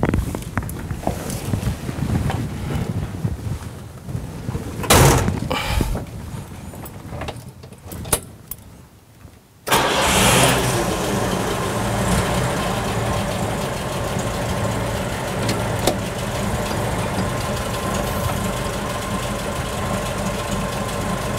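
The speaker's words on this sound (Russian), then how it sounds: "«Волга» впервые за много лет покидает музейный гараж" A museum-kept vintage Volga car's engine starts after some rattling and key jangles, then settles into a steady, continuous idle heard up close for the rest of the clip.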